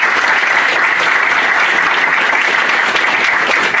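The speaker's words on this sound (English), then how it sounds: "give the panel one more round of applause" An audience applauds a panel at the close of a discussion session, a loud, even, sustained burst of clapping from many people with no talk over it.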